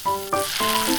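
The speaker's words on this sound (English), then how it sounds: "Remember to flip and fry all sides." A miniature beef steak fries in a small pan, giving a steady close sizzle with brief crackling bursts and no talking.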